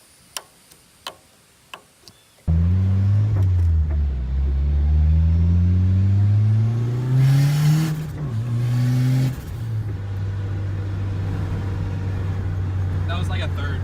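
A Nissan S13 fitted with a new turbo is revved at a third to half throttle. A few sharp ticks come first, then the engine catches and rises through repeated climbing revs before settling into a steady, loud idle.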